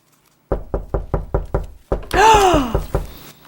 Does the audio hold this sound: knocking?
yes